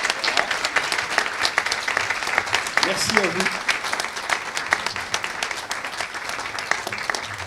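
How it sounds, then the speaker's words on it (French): Audience at the WHAT06 Greentech hackathon opening applauds its sponsors, steady dense clapping throughout with a brief French spoken thanks over it. "merci de bien vouloir vous lever afin que nous vous applaudissions bien fort"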